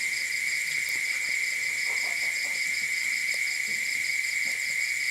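Loud insects outdoors keep up a steady, high, piercing chorus of trilling that never lets up, with faint scattered sounds underneath.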